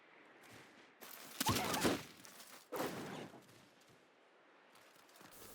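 Enemy gunfire in Civilization VI, a few short crackling volleys of rifle shots, moderately loud over a quiet game background, separated by brief pauses.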